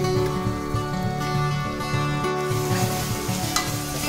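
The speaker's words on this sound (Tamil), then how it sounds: "உப்பு போட்டு நல்லா வதங்கிட்டு நல்லா வதங்கணும்." Onions, salt and spices sauté in oil for a coconut-milk fish curry, making an even, close sizzle with stirring, partly under steady background music and with no speech.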